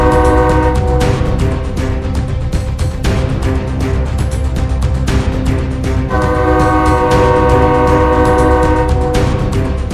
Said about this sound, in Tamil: அந்த 3 பேர்த்தோட உடலே ரயில் மேல வச்சுட்டு ரயில ஹனுமான் ஓட்ட ஆரம்பிச்சாரு.